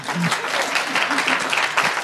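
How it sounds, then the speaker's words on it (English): Steady applause from an indoor crowd, dense clapping filling the whole stretch with a few brief voices poking through. "Give yourselves a round of applause."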